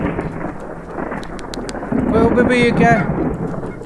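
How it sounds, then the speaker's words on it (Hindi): A loud thunder crack bursts out midway through the Danny's House horror game, rumbling over a steady patter of rain while someone speaks in surprise. "ये इतनी तेज बिजली कड़की"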